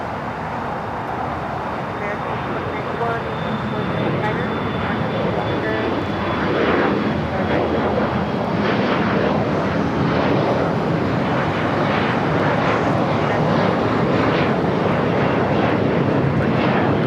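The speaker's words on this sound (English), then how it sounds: "Next takeoff is Alaska SkyWest, flight 3432 to E175 LR." An Alaska SkyWest Embraer E175 jet takes off at LAX, producing a loud, continuous, broadband engine roar that builds slightly and holds steady throughout.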